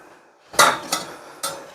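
Chopped food is dropped into a dish in a home kitchen, giving three sharp clattering knocks with short gaps between them, close and fairly loud against a quiet background.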